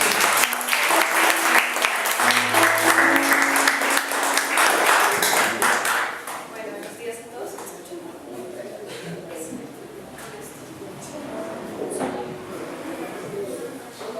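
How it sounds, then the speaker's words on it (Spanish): A church congregation claps for Jesus, with dense applause filling the first six seconds before fading into scattered claps and murmuring voices, and a brief musical tone sounds under the opening applause. "denle otro aplauso a Jesús ahora sí"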